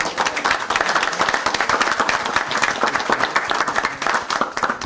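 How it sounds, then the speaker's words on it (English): A crowd at a community sports equipment donation event claps for the football coaches, a continuous, fairly close burst of applause lasting several seconds. "So I want to clap it up for all the coaches"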